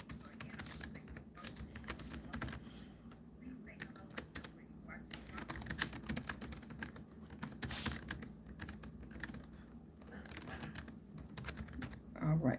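Quick, irregular typing on a computer keyboard clatters continuously at moderate volume, with soft speech in the background.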